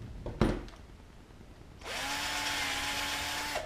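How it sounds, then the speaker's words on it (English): A power drill bores through an aluminium bracket held against an aircraft wing rib, starting after a couple of handling knocks and then whining at a steady pitch for under two seconds, loud and close. "I'm going to hold this bracket against tightly, against the rib while I drill this off"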